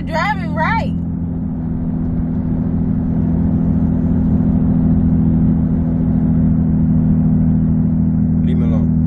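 A car drives along with a steady, loud engine drone and road rumble filling the whole stretch, while a voice breaks in briefly at the start and again near the end.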